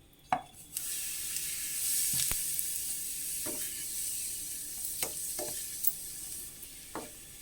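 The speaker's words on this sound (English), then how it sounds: "I have 3 tablespoons of olive oil already in the saucepan," Olive oil in a saucepan gives a continuous faint hiss and sizzle, broken by several sharp clicks and taps from stirring, with no talk.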